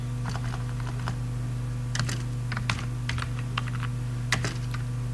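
Keys clatter on a computer keyboard in scattered quick taps and short bursts, close and fairly clear, over a steady low electrical hum, with no one speaking.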